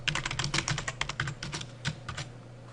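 Quick bursts of typing on a computer keyboard, close and fairly quiet, with irregular clusters of sharp key clicks and short pauses between them.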